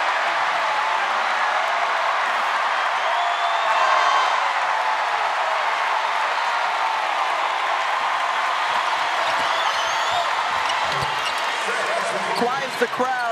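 Arena crowd at a 2024 NCAA women's basketball second-round game between Texas and Alabama, a broad sustained roar of cheering that stays steady and loud throughout, with commentary voices talking over it.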